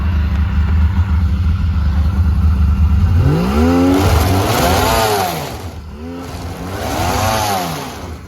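A Polaris snowmobile frozen into snow idles loudly, then revs hard twice with its track spinning in place, each rev rising and falling in pitch, close and dominant.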